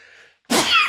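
A sudden, forceful sneeze bursts out after a brief silence, loud and close, following a faint stretch of low background noise.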